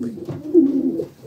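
Pigeons cooing inside a breeding loft while hens are starting to lay, a close, low, throaty coo rising and falling over about a second.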